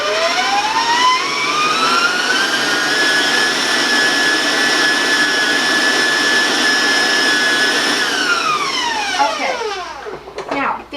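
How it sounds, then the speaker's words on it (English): An electric stand mixer beats peanut butter chocolate frosting with a loud, whining motor hum. It ramps up in pitch, holds steady for several seconds, then winds down and stops. "I want to warn you about the sound because the mixer can be loud."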